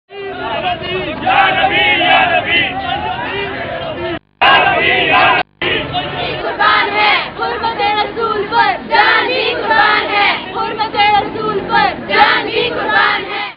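Crowd at a street protest rally against a blasphemous film chants religious slogans in loud, rhythmic unison, massed voices rising and falling with brief cuts between takes.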